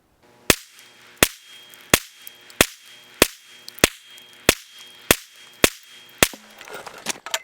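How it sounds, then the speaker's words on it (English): Ten sharp rifle shots from a ported, suppressed SD-barrel rifle, fired at a steady pace roughly two-thirds of a second apart, each a loud crack with a short tail, close by and with no talk. "Okay, we're shooting at the top right."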